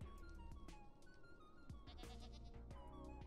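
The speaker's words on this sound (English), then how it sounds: "That might be screaming goat" Repeated goat bleats from a screaming goat in Minecraft, several loud, harsh cries in a row over a busy game soundscape with other animal calls.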